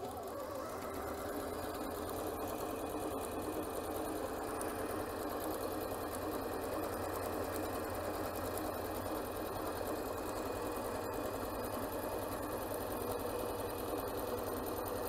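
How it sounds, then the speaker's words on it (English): Janome C30 sewing machine running steadily up to a pin, a continuous, even mechanical whir with a fine stitching rhythm, fairly quiet and heard alone throughout. "I'm going to sew right until the pin, and then when I get to the pin, I'm going to do a lock stitch again."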